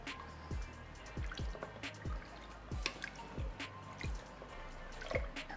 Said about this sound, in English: So let's stir this up here and taste it for seasoning.